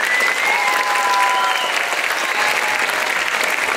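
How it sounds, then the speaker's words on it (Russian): A dense, steady wash of audience applause fills a hall at a children's dance festival, loud and continuous throughout with no break or rhythm, and a few faint voices barely rising through the clapping. "Аплодисменты еще раз."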